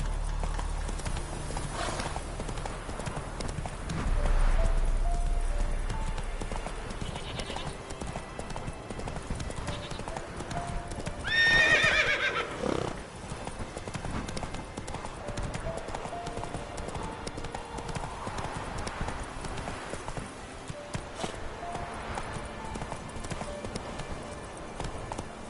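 Roach, a horse in The Witcher video game, gallops with steady clip-clop hoofbeats running the whole stretch, a brief whinny near the middle, and soft ambient game sounds underneath.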